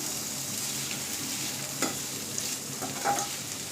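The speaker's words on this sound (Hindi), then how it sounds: "हम 2 मीडियम साइज का प्याज डाल रहे हैं। इसको हम चला लेते हैं।" Two medium onions are stirred in a pan over a gas flame, giving a soft continuous sizzle with a few scraping stirs, close and without voices.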